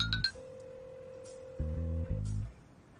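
A phone rings on an incoming call back in a dubbed drama scene: a single steady electronic tone sounds for nearly two seconds, quiet and clean, with short bursts of other sound at the start and end.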